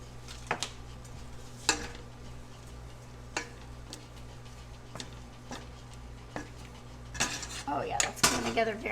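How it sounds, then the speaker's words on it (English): Pats of butter stirred into a pan sauce: a utensil scrapes and clinks against the pan in scattered sharp knocks, quiet and close, with a faint sizzle underneath and a busier flurry of clatter near the end. "we have a couple of pats of butter. They always give you these nice little portions, like I said, and it says we're just going to stir that in"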